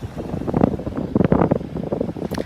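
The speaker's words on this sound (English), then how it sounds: "And I know it's windy" Gusty wind on Pawleys Island beach buffets the microphone in loud, uneven rumbling bursts throughout.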